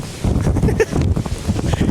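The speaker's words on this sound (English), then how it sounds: "out here in the water, it's just a little bit windy, just a tad bit" Wind buffets and rumbles across the microphone in a steady low roar out on the water during a Sarasota storm, with gusty fluctuations and some faint splashing underneath, no clear talking.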